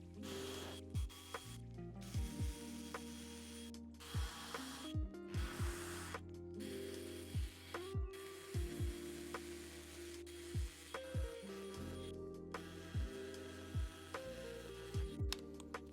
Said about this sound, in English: So then we'll just finish drilling out the holes here.